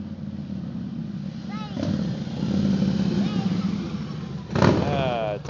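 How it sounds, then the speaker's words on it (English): A motorcycle engine drones steadily close by, swelling as the bike approaches and passes, with a brief rise in pitch and a louder surge late in the pass over constant road noise. "Ah, it's a motorcycle."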